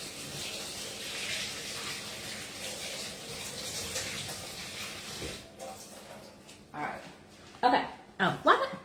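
Tap water runs steadily over cauliflower in a kitchen sink, a hissing flow that stops about halfway through. Louder clunks and handling sounds follow near the end, and a voice can be heard.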